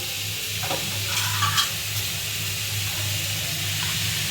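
Cashew paste and a little water go into a hot pan for a paneer dish, giving a steady loud hiss and sizzle with a few brief stirring bursts near the start.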